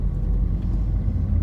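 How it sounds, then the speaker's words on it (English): A car engine labours in first gear as a newly licensed driver moves slowly on a UK road, giving a steady, close low rumble that fills the cabin with no voices over it. "I'm driving on the 1st gear and I shouldn't be driving on the 1st gear."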